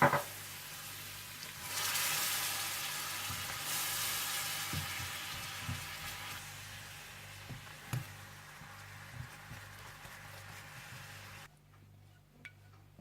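A barbecue honey sauce with soy sauce and black pepper cooks in a pan, a soft steady sizzle with a few light stirring clicks, fading to quiet at the end.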